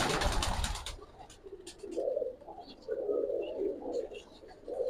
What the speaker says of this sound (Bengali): ভাই এই গলায় লাল কবুতরটা একটু ধরেন